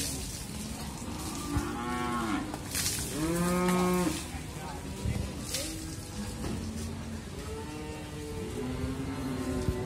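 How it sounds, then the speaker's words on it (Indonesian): Young beef cattle at the Muntilan animal market in Indonesia low repeatedly, several drawn-out moos from nearby animals over a busy outdoor background with faint vehicle noise. "Ini biasanya bawa sapi-sapi bakalan dalam jumlah cukup banyak, sekitar hampir 20 ekor kadang lebih."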